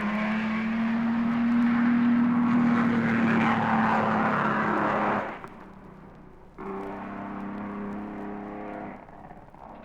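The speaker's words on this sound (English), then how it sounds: "Tony Brooks has a go with the W163 3-litre." A 1958 Mercedes W163 3-litre racing car at Oulton Park, its engine a loud sustained drone that drops away abruptly midway, then returns at a lower, steady pitch as the car continues round the circuit.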